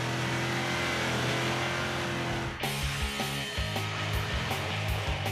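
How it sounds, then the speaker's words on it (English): Land Rover off-road vehicle pushed hard around a challenge course, a harsh engine roar holding steady and then shifting into uneven revving surges with gear changes, loud and continuous with no talking. "Pushing the ultimate high-performance off-road vehicle to its limit."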